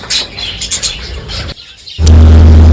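Pet budgerigars chirp in quick, high bursts close by, followed by a loud low rumble and hum.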